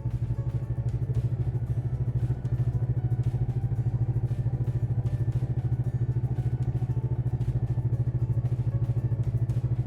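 Fuel-injected engine idling at low revs, a close, steady, evenly pulsing rumble that holds unchanged throughout with no one speaking.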